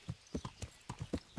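Horse hooves clip-clop in Kingdom Come: Deliverance, a steady sequence of about nine close, distinct hoofbeats at a walking rhythm with no talk over them.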